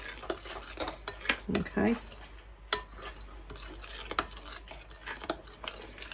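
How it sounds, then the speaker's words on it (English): Tablespoon stirring cream in a bowl in a figure-of-eight motion for a no-cook cheesecake filling, soft repeated scrapes and light clinks close by, with a brief word spoken. "Using a tablespoon and a figure-of-8 motion, trying not to over stir your cream."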